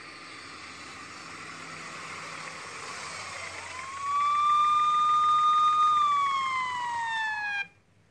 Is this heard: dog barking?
no